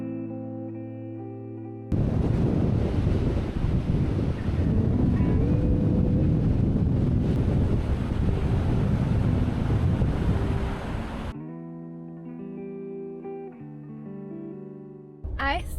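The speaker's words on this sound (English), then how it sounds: "It's pretty windy, but look at this view." Strong wind roars across the microphone on the Scottish Highlands coast in winter, a loud broadband rush lasting about ten seconds between quieter stretches of music.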